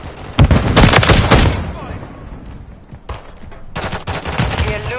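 Gunfire in Call of Duty MWIII crackles loudly as bursts of automatic fire and heavy thuds, close and dense, fading briefly mid-clip before resuming.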